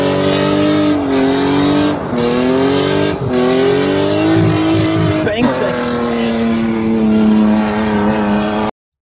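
A drift car with a welded differential revs hard and accelerates, its loud, close engine climbing through repeated rising sweeps with brief dips between them as it pulls away.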